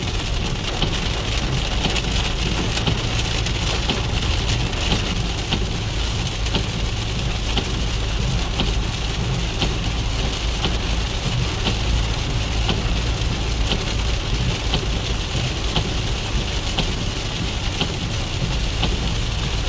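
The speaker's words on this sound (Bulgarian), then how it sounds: "но тук дъжда е доста силен" Heavy rain pounds steadily on a surface while driving, a dense continuous roar with a low rumble underneath and no voices.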